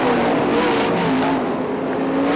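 Sprint cars racing on the dirt oval at Ionia Raceway Park, a dense, steady roar of engines at full throttle with rising and falling pitch as cars pass, loud and continuous without a break.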